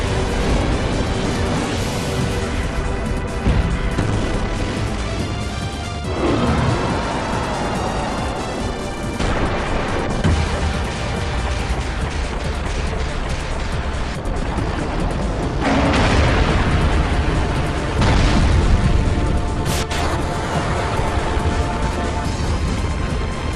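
A fire attack in a video game explodes on a white seed ship, a long run of loud, dense blasts and crashing booms that keep going with repeated heavy surges and no talk.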